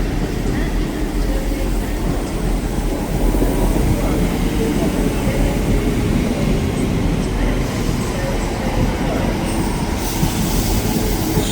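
A train in East Midlands Railway livery rolling through Stockport station, a loud, continuous low rumble of wheels and carriages with steady rail noise throughout, close by and dominating, with a faint voice beneath.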